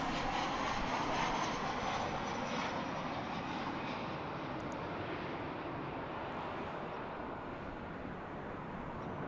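Arriving airliner on a flight from Phoenix at DFW International Airport, a faint, broad, steady engine roar heard from a distance, holding evenly and easing slightly toward the end.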